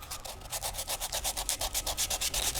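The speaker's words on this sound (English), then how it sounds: "Now this particular wood is quite soft. It sands very nicely, so just a little bit of sanding" Sandpaper rubbing over soft whittled wood in a steady back-and-forth rhythm, close and clear, with roughly a dozen even strokes and no talking.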